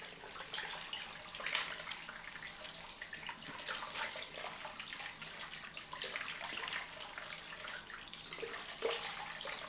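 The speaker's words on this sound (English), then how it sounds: "get some cold water on the dome." Cold tap water runs and splashes steadily onto a freshly shaved head and face at a bathroom sink, close and continuous with scattered louder splashes and no talking.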